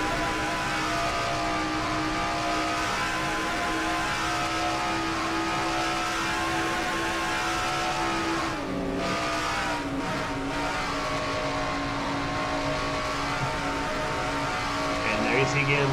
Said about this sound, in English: On board with Quentin Moore in car number 15